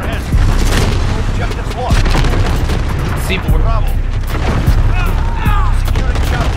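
Loud booming blasts and crackling gunfire from a C4 explosion in Modern Warfare gameplay, several heavy hits spread through a continuous barrage of shots and rumbling impacts.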